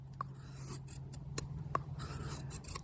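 A small bushcraft knife in O2 steel shaves wood, giving faint, quiet scraping and rasping strokes in a short irregular series, with scattered light clicks and no talk.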